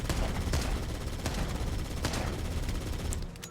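Heavy gunfire from the Needler in a Halo: Combat Evolved remake booms in rapid bursts, each shot punchy and loud, continuing almost without pause for a few seconds.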